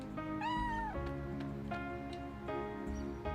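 A cartoonish cat meows in the Chrono Cross video game, a long rising-falling mew followed by shorter chirps, set against continuous game music.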